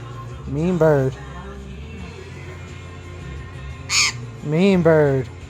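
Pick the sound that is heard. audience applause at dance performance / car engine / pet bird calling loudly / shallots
pet bird calling loudly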